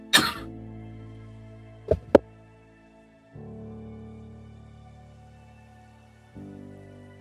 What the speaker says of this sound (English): that was a lot of coughing